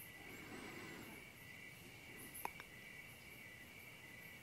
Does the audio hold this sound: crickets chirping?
yes